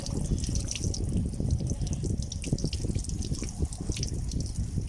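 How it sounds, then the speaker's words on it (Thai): Water drains from a car radiator as it is flushed, pouring in a steady, close splashing stream with dribbling and trickling throughout. "ปล่อยเลย เห็นไหมเหมือนข้อน้ำใหญ่นี้มันจะออกเยอะเลย"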